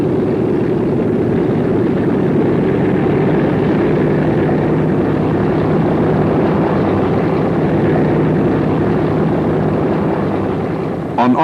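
Boeing 299, the 1935 prototype of the B-17 Flying Fortress four-engine bomber, droning steadily in flight with a loud, continuous propeller-engine hum that holds throughout.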